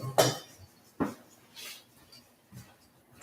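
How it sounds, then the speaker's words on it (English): A spoon stirs melting ingredients in a pot for low-carb monkey bread, giving several irregular metallic clinks and scrapes against the pot, a couple of them sharp and close, with quieter shuffling in between. "And now I'll stir it just to make it melt just a tiny bit faster."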